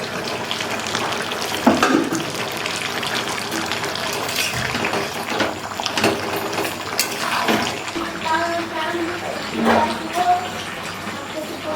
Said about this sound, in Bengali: এখন পরিমাণ মতো গ্রেভি করার জন্য জল দেব।